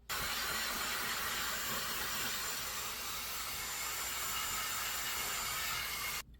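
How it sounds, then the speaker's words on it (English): A hair dryer blows steadily on damp hair, a loud, constant airy rush that holds even from start to finish with no talking. "So let's blow dry our hair."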